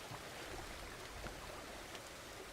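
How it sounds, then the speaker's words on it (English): Steady rain falls on a farm in the farming game Farmer's Dynasty, an even, quiet hiss of drops with no pauses and nothing else standing out. "It's Monday, and it's chucking down rain."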